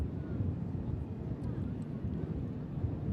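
An Atlas Air Boeing 747 departing and climbing out, its deep steady jet roar rumbling low and broad throughout, with wind buffeting the microphone.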